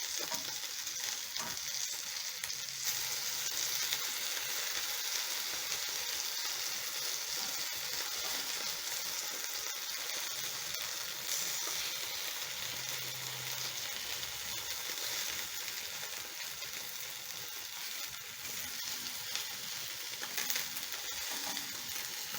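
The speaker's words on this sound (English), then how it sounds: "I'm going to give my fish another minute to fry" Fish frying in a pan for a stew, a steady close-up sizzle of hot oil that holds continuously, with faint crackles and occasional soft scraping, no voices.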